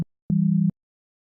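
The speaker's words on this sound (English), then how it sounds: "change Oscillator 1's waveform to a sine wave and drop it down 1" A single steady low synthesizer sine tone, dropped an octave, clean and pure, holding for under half a second before cutting off, with silence around it.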